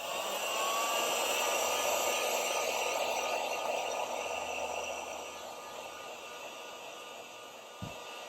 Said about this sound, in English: I'm going to use a heat gun here just to see if I can bring the temperature of the paint up